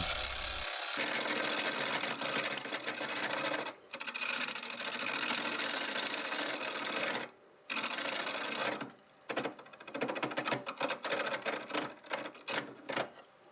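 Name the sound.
wood turning on a lathe with a carbide tool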